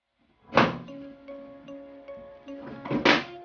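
A gaming PC case being opened: a solid thunk as the side panel comes loose, then a faint hum and light scraping, and a second thunk near the end. Close by, with no talk.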